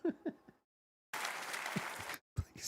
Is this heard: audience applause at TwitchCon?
yes